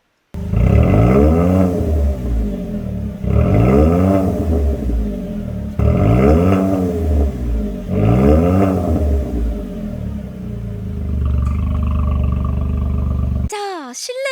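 A tuned Chevrolet Spark with a variable exhaust revs loudly four times in a row, each roar rising and falling, then idles with a brief sharp sound at the end.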